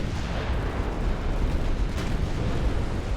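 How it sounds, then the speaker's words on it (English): A torpedo strikes the battleship Mississippi in the naval game Ultimate Admiral: Dreadnoughts, producing a loud, sustained rumbling explosion with heavy low-end roar and no voices. "Oh shit, that's a torpedo!"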